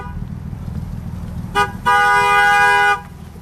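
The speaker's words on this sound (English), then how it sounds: "Every day I hear someone honking a horn." A car horn honks twice: a short toot followed by a longer sustained blast of about a second, loud and close over a low rumble of traffic.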